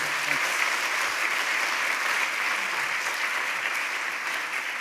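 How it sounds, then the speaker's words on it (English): A conference audience applauds after a keynote presentation, with a sustained, even wash of clapping from a large room that carries on steadily with no talking over it. "So please give him a very strong round of applause."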